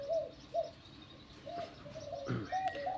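Baby birds in a nest make short, repeated soft chirping calls with brief pauses between them, heard close by against a faint background.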